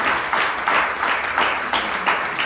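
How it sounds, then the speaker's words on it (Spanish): Church congregation applauding during a Spanish-language sermon: a steady wash of many hands clapping, fairly loud and continuous, with faint pulsing as the claps overlap. "Denme un aplauso al Señor"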